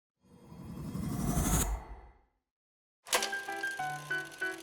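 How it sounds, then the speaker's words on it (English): A swelling whoosh rises and cuts off into a reverberant tail, followed after a pause by a bright musical passage. "If we just add a simple whoosh with a bit of reverb and play it all together"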